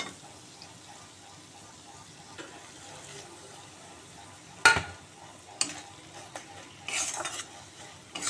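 Dried fish paste frying in a pan, a faint continuous sizzle with occasional scattered spoon scrapes and clinks that grow a little busier toward the end; nobody talks.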